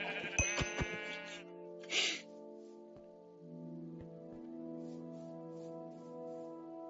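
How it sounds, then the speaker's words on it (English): A Minecraft sheep bleats, with a couple of clear, wavering baa calls up close. A brief soft hiss sounds between them and a low sustained game tone drifts underneath. "But you can hear the sheeps, so you can kill the sheeps."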